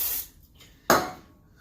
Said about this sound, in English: I'm going to take the spray, and I'm going to spray it.